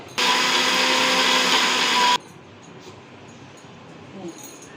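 A mixer grinder whirs loudly and steadily for about two seconds while blending small tomatoes into paste, then cuts off abruptly, leaving faint room noise.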